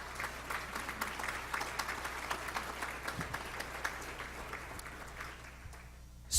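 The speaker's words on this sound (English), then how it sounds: "Let's give them another round of applause, please." Audience applause at a State of the City address honoring the planning department and assistant city manager, a sustained crowd clapping heard from a distance in a large room, fairly faint and steady with occasional louder claps.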